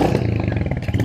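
Royal Enfield Hunter 350 motorcycle engine revving close by, a rough, pulsing single-cylinder roar with rapid throttle blips and a brief dip before surging again.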